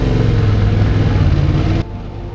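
A motorcycle accelerating in second gear on a mountain pass ride, a loud, steady, close engine drone that rises slightly, then drops abruptly to a quieter hum near the end.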